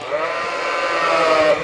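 Lambs bleating in a barn pen at a sales barn, one sustained wavering bleat close by with faint farm background.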